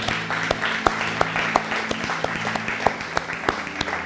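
A church congregation claps along in a steady, regular rhythm, the sharp claps coming roughly twice a second over a low background hum, with no voices on top.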